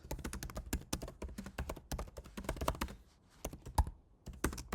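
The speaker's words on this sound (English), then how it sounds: "hang on, I'm just typing this topic in" Fast, uneven typing on a computer keyboard, close and fairly loud, with dense clustered key clicks and a short pause near the end before the tapping resumes.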